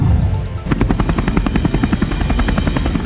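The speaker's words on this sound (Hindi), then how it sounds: "अमरनाथ यात्रा में चिनूक हेलीकॉप्टर भी बेहद अहम रोल अदा कर रहा है।" A Chinook heavy-lift helicopter of the Indian Air Force flies on the Amarnath Yatra route. Its deep rotor thumps pulse rapidly and loudly, growing stronger after a brief quieter start, with no voices.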